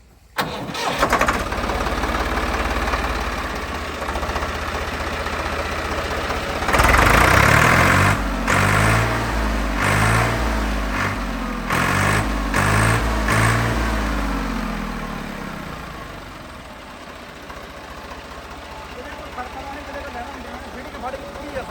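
A 2006 Swaraj 855 tractor diesel engine cranks for a few seconds, catches with a loud roar, then settles into a steady idle, with people talking nearby before and during.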